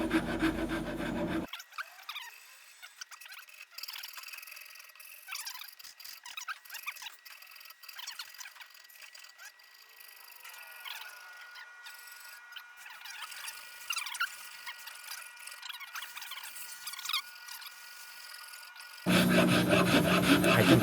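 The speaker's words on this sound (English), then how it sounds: "I can feel in the rasp when I've got it smooth." A hand rasp files and shapes wood in an instrument maker's workshop. The scraping strokes come close and repetitive, and they continue steadily with no talk.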